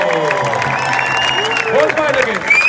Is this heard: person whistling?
no